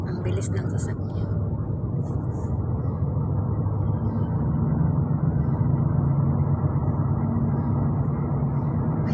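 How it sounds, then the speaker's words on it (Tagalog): Car driving fast, heard from inside as a steady loud road and engine roar that holds throughout, with voices talking quietly over it. "Ang bilis ng sasakyan."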